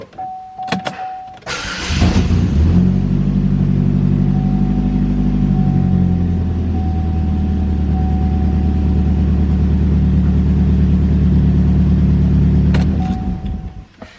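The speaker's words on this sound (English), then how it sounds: "I'm gonna take it for a drive." A Chevy Malibu with a just-cleared P1400 code and a fresh throttle relearn starts with clicks, then its engine rumbles in a close, steady, low drone for about ten seconds before cutting off with more clicks.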